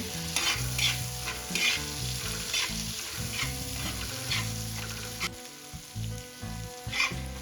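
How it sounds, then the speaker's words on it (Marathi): Pav bhaji being mixed and fried in butter, a loud close sizzle broken by rhythmic scraping strokes of a spatula in the pan, with a brief lull near the end before stirring resumes. "आता आपल्याला ही भाजी छान मिक्स करून घ्यायची आहे बटरमध्ये"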